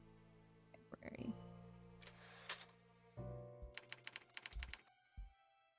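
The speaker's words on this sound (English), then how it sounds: "I like the little typewriter sound." Typewriter sound effect in the Clue Classic (2008) PC game, a quiet patter of quick mechanical keystrokes in short irregular bursts, with a few tonal chimes between them.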